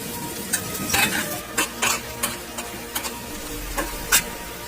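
Four onions frying in a pan on a home stove, a steady close sizzle broken by repeated scraping strokes of a spoon stirring, with no talking.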